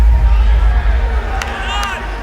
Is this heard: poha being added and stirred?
no